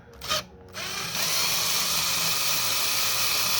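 A screw gun backs screws out of a Whirlpool refrigerator water dispenser. It gives a short burst, then runs with a steady, close, high whine until the end.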